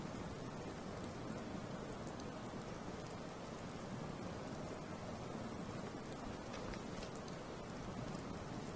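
Steady rain at night in the video game Skyrim, a dense even hiss of falling drops on surfaces, constant and unbroken with no voices.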